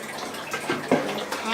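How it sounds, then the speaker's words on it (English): Water running into a container from a tap, a steady broadband wash with a couple of louder splashing surges, heard close and continuous, with faint talking mixed underneath. "we're going to fill up the container with water."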